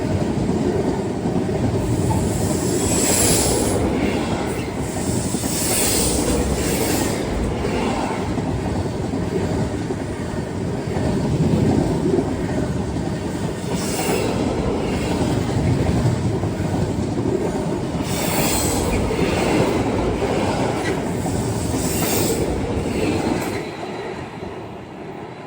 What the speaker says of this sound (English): And here comes a Freightliner 66532.